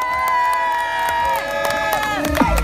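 A crowd at a lakeside village festival in Nailloux cheers and whoops for a DJ before the fireworks. The cheering rides over loud sustained music with gliding synth tones.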